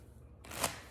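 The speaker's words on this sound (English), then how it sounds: "I also keep a deck of cards with me to kind of play around with. And I'll just shuffle them." A deck of playing cards being shuffled, a short riffling burst in the second half after near silence, moderately quiet and close.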